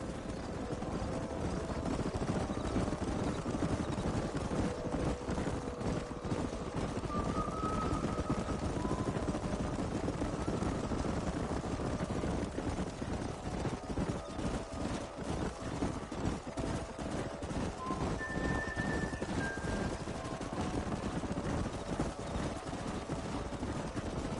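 In a Red Dead Redemption game scene, a herd of horses gallops along a canyon in a dense, continuous patter of hoofbeats that holds steady and loud throughout.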